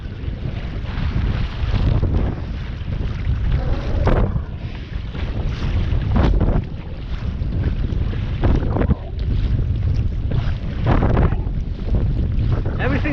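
Strong headwind buffets the microphone while kayaking on Diablo Lake, a loud, continuous roaring rush with gusty swells and faint paddle and water sounds underneath.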